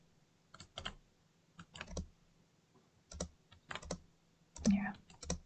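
Close, irregular clatter of fingers typing on a computer keyboard, quick bursts of key clicks separated by short pauses.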